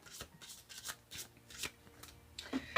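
Heal Yourself reading cards riffled and shuffled by hand, a run of quick papery flutters and taps in an irregular rhythm, close and fairly soft.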